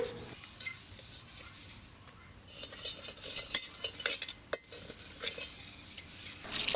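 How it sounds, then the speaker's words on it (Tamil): Repeated rough scrubbing and scraping of coconut fibre against a steel pot, rhythmic and close, with occasional clinks of the vessel. "தேங்காய் நார் யூஸ் பண்ணி தான் வளர்க்குறேன்"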